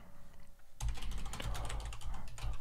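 Steady, fast typing on a computer keyboard while configuring a firewall, close and continuous key clicks that start abruptly after a quiet moment and run without pause, no voices.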